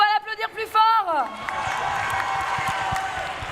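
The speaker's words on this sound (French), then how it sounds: "On va l'applaudir plus fort." After a brief burst of loud electronic music, a crowd at the Just Dance French Cup 2019 final breaks into clapping and cheering, a busy, steady wash of hands and voices carrying on to the end.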